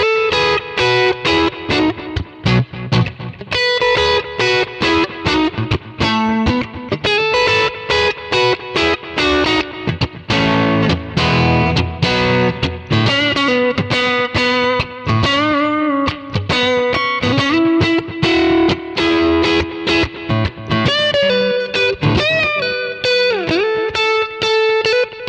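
Electric guitar, a Stratocaster on its neck pickup through a Kemper profile, plays continuously with a warm, rounded tone, mixing chords and single notes with a touch of effects, loud and up close.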